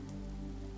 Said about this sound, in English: The rain continues to fall as the tour concludes, the sound of it now a steady hum